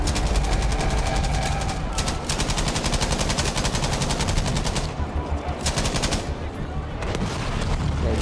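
Rapid, sustained bursts of heavy automatic gunfire from a mounted machine gun in Battlefield V, loud and continuous with brief pauses between volleys, explosions rumbling underneath.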